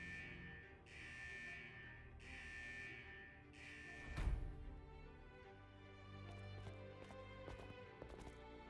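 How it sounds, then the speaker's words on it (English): A vault's central alarm in the game Wuthering Waves sounds as repeated buzzing pulses, about four bursts in the first half, followed by a thud and scattered clatter, moderately quiet. "Is that the central alarm of the vault?"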